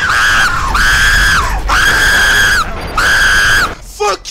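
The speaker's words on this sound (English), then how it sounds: "Stop screaming!" Animated Ultrakill characters V1 and V2 screaming: four long, loud, sustained screams in a row, with short breaks between them.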